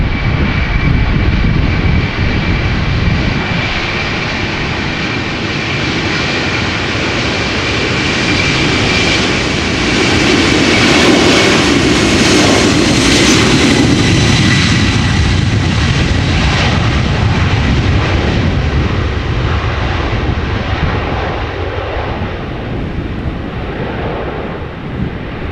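A Boeing 747-400 freighter jet taking off from Amsterdam Schiphol Airport gives a sustained, loud engine roar with deep rumble and whining hiss that swells in the middle as it passes, with some wind noise and no voices.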